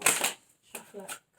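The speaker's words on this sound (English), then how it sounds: "I don't know which angle to shuffle it" Tarot cards shuffled by hand during a reading: two short riffling bursts of cards, close and crisp, separated by brief pauses, with soft speech nearby.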